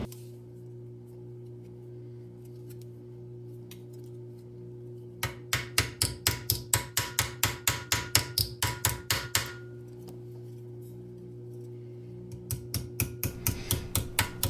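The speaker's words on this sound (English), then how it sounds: "This is what I shaped the edge of pretty much all the armor pieces with. I think it's called a vice anvil." A hammer strikes steel armor edges held on a vice anvil, ringing out as a fast, loud, metallic run of evenly spaced blows up close, then a pause, then another shorter burst.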